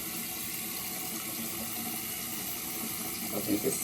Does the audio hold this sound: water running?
yes